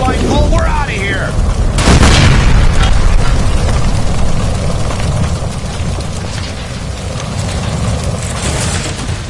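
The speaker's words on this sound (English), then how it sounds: "Shoot the gas line, Cole, we're out of here" A gas line explosion in the video game L.A. Noire bursts out as a loud boom near the start and then rolls into a long, dense rumble of fire and debris, with game voices shouting underneath.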